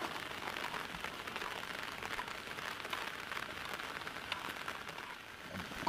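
Heavy rain pours steadily on a forest campsite during a group camping trip, a dense continuous hiss of drops on surfaces with no break across the stretch.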